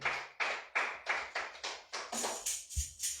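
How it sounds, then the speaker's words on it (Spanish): A church congregation gives the Lord a strong round of applause during a sermon: about nine sharp, evenly spaced claps in a steady rhythm, distinct and separate rather than a dense roar, with no talk over them. "Dele fuerte aplauso al Señor"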